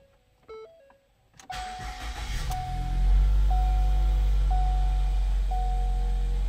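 A 2013 Ford Escape engine with a newly replaced high-pressure fuel pump cranks after a few dash chimes, catches quickly and settles into a steady, close idle while a warning chime repeats.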